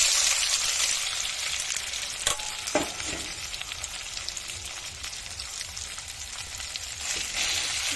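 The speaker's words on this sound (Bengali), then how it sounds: "হলুদ, লবণ দিয়ে মেখে নিয়ে এগুলোকে ভেজে নিচ্ছি তেলে।" Steady crackling sizzle of soybean chunks, coated in turmeric and salt, frying in a little hot oil, with a few clinks of a spoon stirring the pan.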